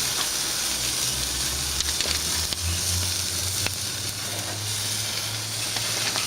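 Ribeye steak searing on a barbecue grill, a steady close sizzle and hiss with a low rumble beneath and occasional faint clicks.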